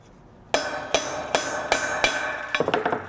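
Sharp metallic hammer strikes set a dimple into a sheet metal burger flipper over a rivet, five spaced blows followed by a quick burst of lighter taps, close and loud with no talk.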